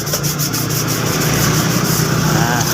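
Close, loud sanding of motorbike bodywork by the roadside, a steady rhythmic scratchy rubbing in fast back-and-forth strokes that runs without a break.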